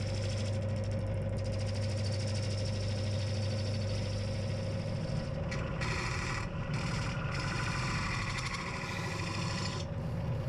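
A spindle gouge refining the foot of a very hard wooden bowl on a lathe, cutting end grain: a constant motor hum with a continuous rough, rasping cut that lightens in brief gaps toward the end.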